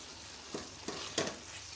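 Mutton keema with cabbage and coriander is stirred in a sizzling pan, with three quick scraping strokes over a soft, steady frying hiss, close and fairly quiet.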